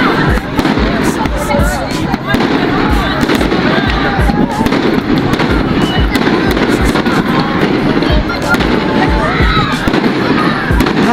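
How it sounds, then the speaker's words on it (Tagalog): Fireworks crackle and bang nonstop at a Milagros fiesta bazaar, a loud, dense barrage of pops and bursts with a crowd and voices underneath throughout. "So at syempre hindi mawawala ang kanilang pa-fireworks."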